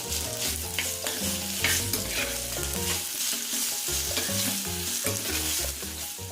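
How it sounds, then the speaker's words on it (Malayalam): Curry leaves, crushed ginger, garlic and green chillies sauté in a pan with a continuous soft sizzle and stirring, partly masked by steady background music. "കറിവേപ്പില, ഇഞ്ചി, വെളുത്തുള്ളി ചതച്ചതും പച്ചമുളകും ചേർക്കാം. എല്ലാം കൂടിയിട്ടൊന്ന് നമുക്ക് വഴറ്റാം."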